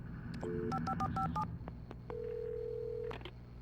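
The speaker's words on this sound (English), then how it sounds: "Let's try the phone." A short run of telephone keypad tones beeps out in quick succession in the video game Alan Wake, followed by a longer steady tone, clean and electronic with a low background hum.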